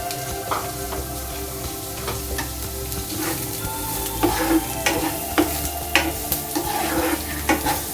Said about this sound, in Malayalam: എണ്ണ ചൂടായി വരുമ്പോൾ നമുക്ക് അരിഞ്ഞു വെച്ചിരിക്കുന്ന സവോള അതിലേക്ക് ഇട്ട് കൊടുക്കാം